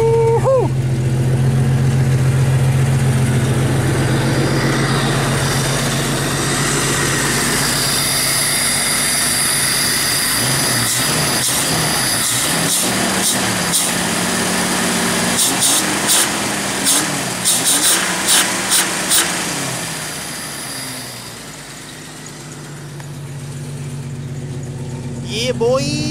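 A Jeep Wrangler YJ engine runs after throttle body cleaning, a steady low idle heard up close with irregular rattling clicks through the middle, and someone speaking over it.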